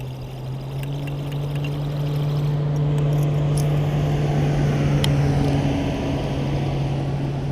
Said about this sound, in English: Got a boat coming by.